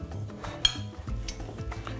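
A fork mashes peeled ripe bananas against a bowl for brownie batter, giving close, uneven clinks and soft squelching scrapes over a couple of seconds with no talking.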